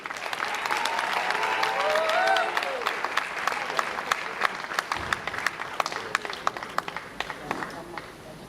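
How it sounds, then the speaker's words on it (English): An audience applauds at a Milestones of Freedom campaign event officiated by the president, sustained crowd clapping with sharp individual claps growing sparser toward the end, a brief voice and tones heard early under it. "Another round of applause."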